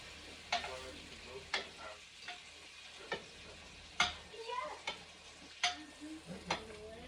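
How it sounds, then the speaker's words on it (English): Braciole browning in a pan as the start of a homemade sauce, a soft low sizzle punctuated by several sharp clinks and scrapes of a utensil, fairly quiet and close. "All the braciole are browning up nicely."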